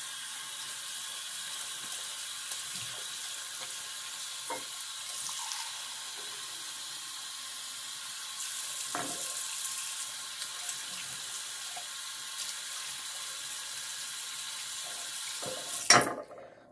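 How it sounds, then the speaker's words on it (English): A bathroom tap runs cold water steadily into a shaving brush, a constant broadband hiss with occasional small splashes and knocks, ending with a brief clatter as the flow stops. "So let me put some cold water in this brush and we'll get loading."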